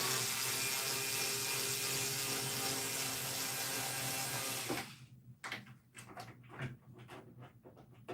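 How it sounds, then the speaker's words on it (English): A screwdriver loosens screws on a Celestion speaker, first masked by a steady loud hum, then heard as a few close scattered clicks and scrapes. "Okay, I'm just going to unscrew both of them and then tilt this up to get it off."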